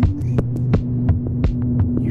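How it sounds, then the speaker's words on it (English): The OTO Machines BOUM adds a warm, throbbing low rumble with high drive and heavy filtering to sampler beats from an Elektron Octatrack MKII, a dense hum under sharp repeating percussive hits, loud and continuous. "You hear that kind of warm rumble"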